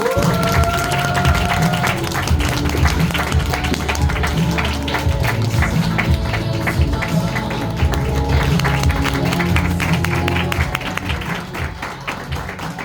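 Applause at a group business meeting as the host for the second part is welcomed, a dense, sustained clatter of many hands for about ten seconds, fading toward the end.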